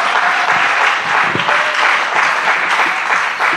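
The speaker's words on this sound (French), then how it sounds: "Let's clap for Jesus Christ." A church congregation claps loudly for Jesus Christ during a sermon, producing a dense, continuous wash of hand claps with a few brief vocal sounds rising through it.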